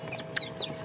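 Newly hatched chicks in a homemade incubator give short, high peeping chirps, several quick calls overlapping close by in a brief burst, with no talk.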